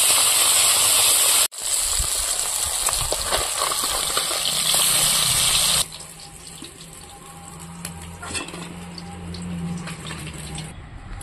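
Tap water gushes loudly into a kitchen sink as leafy greens are washed, a steady rushing stream that briefly cuts out, then continues more softly with lighter splashing and handling sounds.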